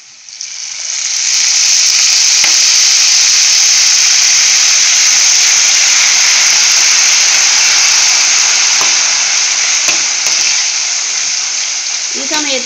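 Salt water sprinkled into hot oil where breadfruit chips are frying, giving a loud, steady sizzling hiss that swells within the first second or two and carries on strongly throughout.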